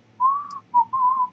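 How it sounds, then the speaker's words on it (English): A clear, close whistle: one sustained note, a short pause, then two more tones in quick succession, alone with no talk. "Whistle."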